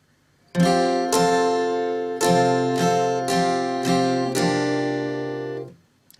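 An acoustic guitar strums ringing chords in a steady rhythmic pattern, about seven distinct strokes, clear and close, then the strings are muted at the end.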